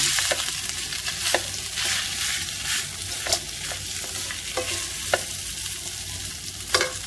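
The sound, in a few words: reheating leftover rice with garlic in a pan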